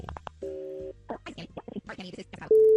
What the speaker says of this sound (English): Let's make the phone call and see who she decides that she wants to pick.